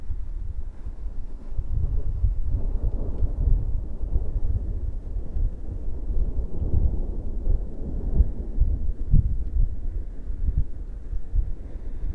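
Thunder rolling after fork lightning in the Pyrenees, a long, loud, continuous low rumble with no break across the whole stretch, mixed with wind buffeting the microphone.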